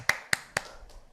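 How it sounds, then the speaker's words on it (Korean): A few claps from a church congregation welcoming a visiting pastor at a Sunday service: three sharp, evenly spaced claps close by, then a fainter fourth, with no voices. "우리 지구촌의 뜨거운 박수로 환영하며 격려하겠습니다"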